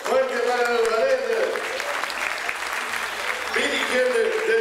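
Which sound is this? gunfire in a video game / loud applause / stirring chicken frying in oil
loud applause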